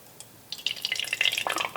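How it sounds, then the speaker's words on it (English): Water poured into an empty pop can, about 30 milliliters, sets off a quick run of small splashing, trickling sounds after a short quiet start, close and moderately soft. "So now I'm going to pour the water"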